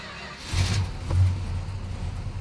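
Engine of a barn find Dodge Charger Daytona, abandoned for 32 years, catching and settling into a low, rough idle, with two swells in engine rumble close by and no voices.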